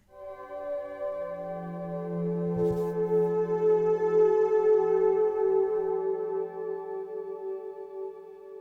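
Relaxing sleep music built on a Hz frequency tone, sustained and droning, with layered steady tones and a soft low hum that swell gently and hold evenly throughout, no voices.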